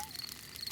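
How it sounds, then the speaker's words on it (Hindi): Crickets in a night scene of a Peppa Pig cartoon give a thin, high, steady chirp that is faint and very brief. "ये कीड़ों की चींची आवाज है।"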